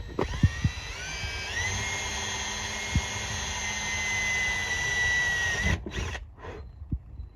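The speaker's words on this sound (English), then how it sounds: "Pre-drill your next 2 holes." A power drill pre-drills screw holes for Coleman 17B friction hinges on a door. It whines steadily and close for about five seconds, its pitch rising as it speeds up, then cuts off, with a few light clicks and taps around it.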